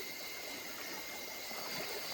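A river at night in a rural barangay, heard as a continuous, broad rushing and trickling of flowing water, steady and fairly close, with no voices over it.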